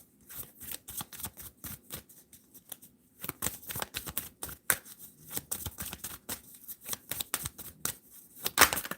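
Oracle cards are shuffled in repeated quick riffling bursts, crisp and close, with brief pauses between rounds and no talking.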